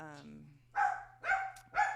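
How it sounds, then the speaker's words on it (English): A dog barks three times in quick succession indoors, each bark loud and clear, following a brief stretch of a person talking. "oh my goodness, my dog"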